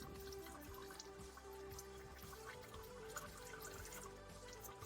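Brake fluid drains steadily from an open bleeder on a car brake corner, a soft continuous trickle and drip with a low constant background hum, faint and unbroken.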